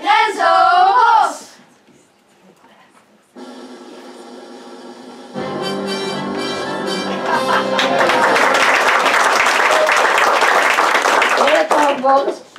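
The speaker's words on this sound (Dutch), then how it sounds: "Een hartelijk applaus voor de enige echte" At a school musical by a Dutch primary school's group 8, an audience claps in a long, dense burst that builds in the second half, mixed with music and a short spoken voice before it.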